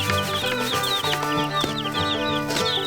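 Young chicks in a coop peeping and clucking continuously, many overlapping high chirps close by over a busy layer of other farm noise, with no talking.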